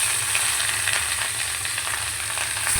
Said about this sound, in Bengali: তো আমি মাছগুলি ভাজবো এখন